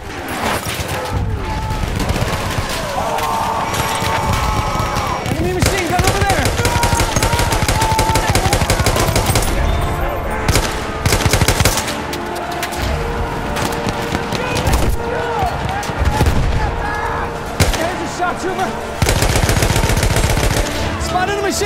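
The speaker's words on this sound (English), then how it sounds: "machine gun!" Battlefield 1 machine guns fire dense, loud rattling bursts in a chaotic battle, mixed with other gunshots and booms, while voices shout over the din.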